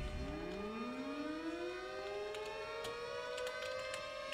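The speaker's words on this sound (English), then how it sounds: "there's the siren. Also, the city has multiple sirens." A tornado civil defense siren in a Minecraft weather mod game rises in pitch and holds a steady wail, fairly faint, with a few brief clicks over it.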